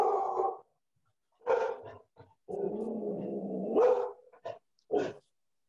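Dogs barking nearby in a home, several loud separate bouts with pauses between them, including one long run of barking and shorter yips, alone without talk.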